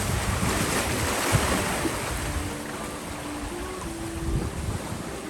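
Ocean waves surge and wash steadily around a small plastic boat off Vancouver Island, with rushing water and gusty wind noise buffeting the microphone throughout.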